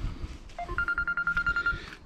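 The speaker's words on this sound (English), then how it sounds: "That's my phone ringing." A short electronic mobile phone ringtone, a rapid string of beeping pulses, rings out briefly over low background noise in a forest.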